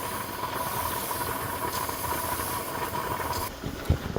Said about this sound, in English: You don't want too much steam coming out of there.